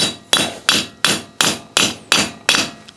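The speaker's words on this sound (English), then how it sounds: "So I'm using like a 2-pound hammer, and you can see I'm not going full bore on it" A 2-pound hammer strikes metal eight times in a steady rhythm while seating parts of a Willys Jeep rear disc brake conversion kit, each blow a sharp, ringing clank that decays quickly, close up with no talking.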